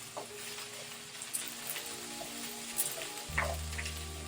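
Cabbage and mixed vegetables stir-frying in a wok give a steady, dense sizzle with occasional stirring scrapes and a low thump near the end, close-up and continuous, without talking.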